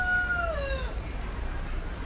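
A rooster crows on a farm where turkeys and peacocks are kept, a single drawn-out call that rises and trails off within the first second, fairly close, followed by low background rumble.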